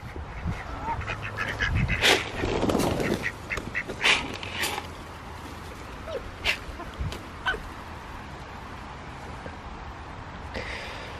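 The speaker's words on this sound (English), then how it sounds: "I hear the ducks." Ducks quack in a farmyard beside a freshly compacted lane, a cluster of loud calls early on, then scattered, fainter quacks and short chirps spread across the rest, with chickens nearby.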